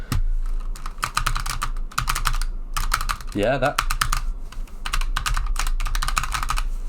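Keys clatter on a Razer Huntsman Tournament Edition keyboard in quick bursts of crisp, close clicking, separated by short pauses, with a brief spoken word in the middle.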